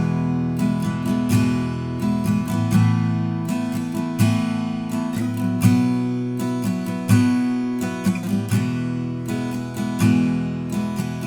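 Acoustic guitar strums the verse chords of a song, with full rhythmic strokes and some muted, damped chords that keep notes from ringing, played alone and fairly loud for about eleven seconds.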